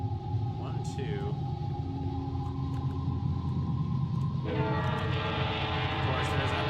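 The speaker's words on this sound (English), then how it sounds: "Of course, there's another fleshy train." A fleshy train rumbles past in the horror game Lost in Vivo, with a steady low roar and sustained tonal horn-like notes that swell and shift partway through.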